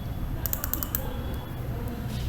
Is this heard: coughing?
no